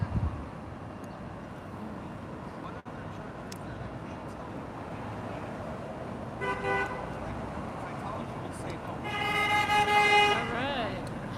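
Traffic rumbles steadily at a street protest, then a vehicle horn sounds in two blasts, a short one followed by a longer, louder honk nearby.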